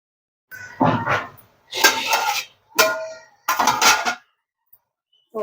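Lid set on a cooking pot of tiger prawn curry: several close metallic clanks and rattles in separate bursts, loud and near, with short quiet gaps between.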